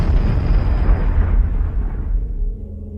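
A huge explosion from the film Oppenheimer rumbles loud and deep, its roaring low boom sustained, then slowly thinning and fading out near the end with no voices.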